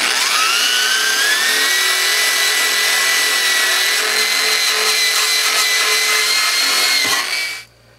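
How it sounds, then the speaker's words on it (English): A wire brush spinning on a power tool scours the metal deck of a push mower: a loud, continuous high whine that rises as it spins up, holds steady for several seconds, then cuts off and winds down. "I'm going to go ahead and wire brush that down a little bit."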